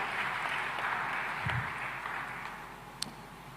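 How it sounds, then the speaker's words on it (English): Applause from a conference audience at a food systems forum, a steady broadband wash of clapping lasting a few seconds and gradually thinning, fairly faint and distant. "A big round of applause for her as well, please."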